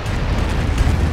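A grenade blast in the World War II strategy game Company of Heroes, on the Angoville map: a dense, rumbling low-heavy burst that fills the whole moment at steady loudness, with no voices over it.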